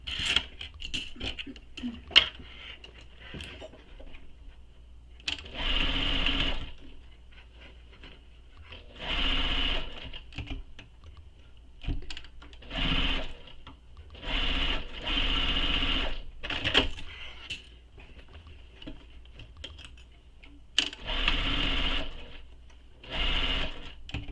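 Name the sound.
sewing machine sewing a bag seam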